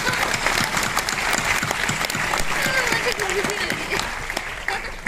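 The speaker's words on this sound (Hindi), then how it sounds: "तो एक बार जोरदार तालियां कलांतर के लिए।" Audience applause at an Indian stand-up comedy award show, steady enthusiastic clapping that carries on while someone talks over it, easing slightly near the end.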